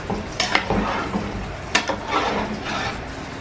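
A spoon scrapes and clinks around a cooking pot while chicken pulao ingredients, potato, tamarind and lemon, are mixed into rice, with irregular close knocks and a steady stirring rustle.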